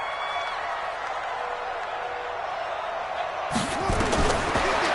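A football stadium crowd at a big third down, a steady broad roar that swells suddenly into louder cheering and clattering noise near the end, with an announcer talking over it.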